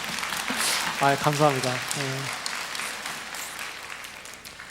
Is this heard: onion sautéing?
no